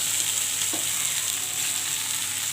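Potatoes hit hot oil spiced with five-spice seeds for a fish and potato curry, setting off a loud, continuous sizzle and crackle with a brief utensil scrape partway through.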